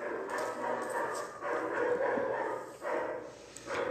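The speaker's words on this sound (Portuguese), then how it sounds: "Ele tá lá no fundo latindo, ó. Cachorro da vizinha." A neighbour's dog barks in the background with repeated muffled yaps and bow-wows, moderately loud over a steady indoor background and no speech.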